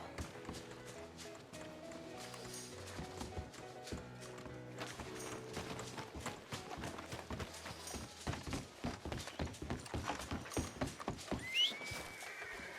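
Horse hooves clip-clop in Red Dead Redemption 2, a steady run of close, sharp thuds that grows denser and quicker toward the end, with background game music and ambience underneath.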